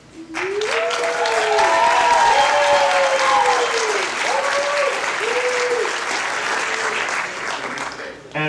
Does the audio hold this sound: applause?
yes